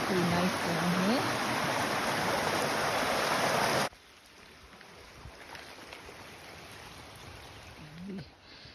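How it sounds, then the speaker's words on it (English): Stream water rushes loudly beside the Kelly Trail on Mt. Paugus, then the roar drops abruptly to a softer, distant burble for the rest of the clip, with a few faint chirps on top. "The water's running pretty nice down here."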